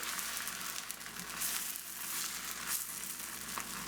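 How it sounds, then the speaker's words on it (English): A tortilla for enchiladas fries in oil in a skillet, giving off a steady, close hiss and crackle with no voices over it. "maybe I have to add more oil in this, but for now, fry this up"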